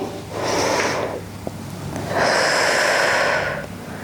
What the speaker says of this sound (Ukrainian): Вдих. Видих. Вдих. А видих.